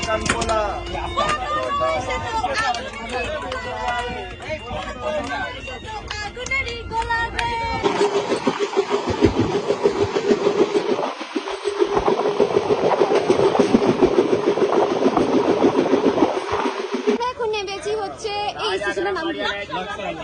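A train running through a station on the way to Haridwar, heard from aboard as a continuous rolling rumble with clattering wheels, swelling louder in the middle, with people talking over it at the start and end.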